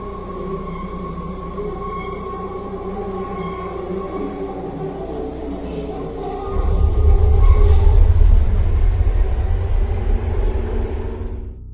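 A subway train runs through a dark tunnel with a steady whining hum, then swells into a loud, deep roaring rumble partway through before easing off slightly.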